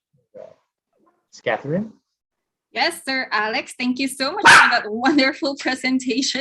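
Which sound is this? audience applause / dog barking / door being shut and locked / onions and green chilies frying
dog barking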